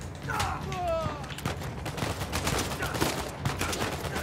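Gunfire bursts in Uncharted 4, a rapid volley of shots over busy game combat noise, with a voice talking over parts of it.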